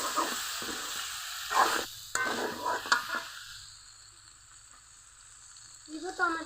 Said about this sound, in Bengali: ভালো করে ভেজে নিতে হবে নেড়ে নেড়ে